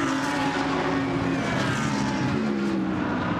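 A propeller aircraft powered by a Rolls-Royce Merlin engine drones steadily overhead, a loud, sustained engine tone with a slight pitch shift as it passes over a racing circuit, no talking.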